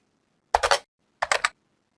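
Two short bursts of computer keyboard typing, each a quick cluster of clicks lasting about a third of a second, close and clear with silence between and no talk.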